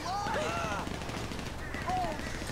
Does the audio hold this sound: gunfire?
yes